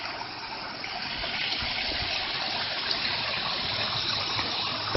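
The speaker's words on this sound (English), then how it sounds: "Little waterfall." A small outdoor waterfall pours with a steady, broad rushing splash, continuous and fairly close, with no voices over it.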